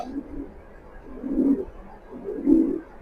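A pair of racing pigeons coos close by, soft low rolling calls coming in three swelling bursts over a faint background, with no talk.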